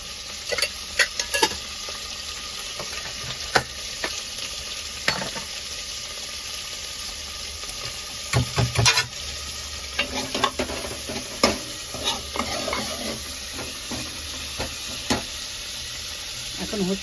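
Bay leaves and whole cumin seeds frying in hot oil for an egg curry with potatoes, a steady close sizzle with scattered sharp crackles and pops, plus occasional stirring scrapes throughout.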